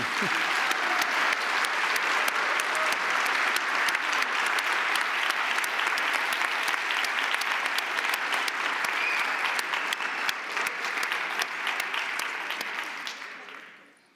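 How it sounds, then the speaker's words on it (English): Sustained applause from a large conference audience at a European public health closing ceremony, dense and steady for over ten seconds before fading out at the end. "A big round of applause to the team."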